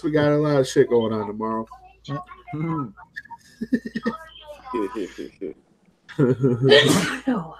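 A single sharp sneeze bursts out near the end of a stretch of casual talk between several people, loud and close.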